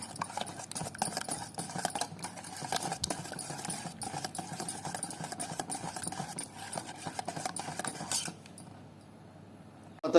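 Three eggs beaten with a spoon in a bowl for egg paniyaram batter: fast rhythmic tapping and clinking, close and continuous, fading near the end before a final clatter.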